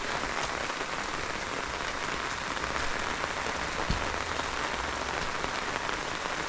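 Steady rain falls across a rural countryside, a dense even hiss of drops on surfaces with a brief louder patter partway through, continuous and close with no talking.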